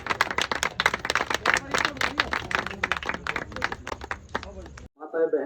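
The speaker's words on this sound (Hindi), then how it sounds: "ताली बजा के इनका स्वागत करें" A village crowd claps to welcome a guest at a Baba Saheb Ambedkar 132nd birth anniversary celebration in Katesra, loud dense applause that runs steadily and then stops abruptly, followed by a brief voice.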